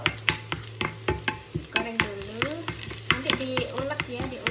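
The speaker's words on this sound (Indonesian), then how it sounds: "bawang putihnya harus digoreng dulu" Garlic fries in a pan with steady sizzling, broken by repeated sharp scrapes and knocks of a utensil stirring against the metal, close and fairly loud with no voice.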